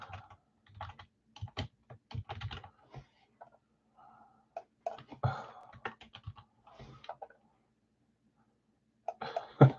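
Keys clatter on a computer keyboard in a home setting, bursts of rapid clicking broken by short pauses, close and moderately loud, with a few faint mechanical knocks between runs.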